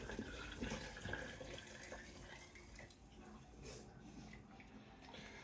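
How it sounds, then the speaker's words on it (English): Chicken broth poured carefully from a container into a pot, a continuous close liquid splashing and trickling that runs for several seconds with slight shifts in flow. "Then I am going to pour the broth in very carefully so not to splash."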